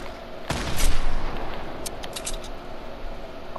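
A single loud gunshot in a video game, one sharp boom with a short rumbling tail, followed by a few faint clicks and a low background hum.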